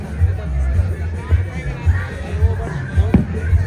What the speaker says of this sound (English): enjoy a live shot of the crowd waiting here at Highland Park